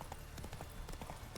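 Horse hooves clip-clopping in The Witcher 3, a steady quick rhythm of hoof strikes at moderate distance, faint and even, with a voice speaking softly underneath.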